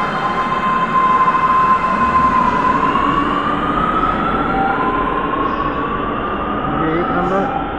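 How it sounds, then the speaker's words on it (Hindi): A Lucknow metro train at Charbagh station, waiting at platform 2 to depart toward Chaudhary Charan Singh Airport: a loud, steady rumble and tonal whine filling the platform, with a voice faintly audible underneath. "चारबाग मेट्रो स्टेशन से चौधरी चरण सिंह एयरपोर्ट की तरफ जाने के लिए तैयार।"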